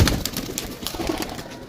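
Pigeons coo softly against a busy, noisy background at a pigeon seller's, with soft overlapping murmurs and rustling throughout.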